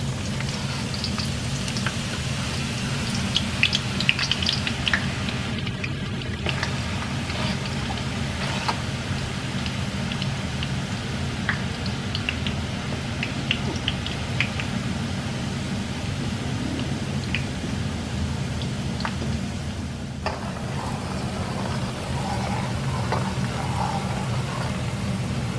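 Shallots deep-frying in hot oil for crispy Lao fried shallots, a steady dense crackle and fizz like rain, continuous and even throughout, with no talking.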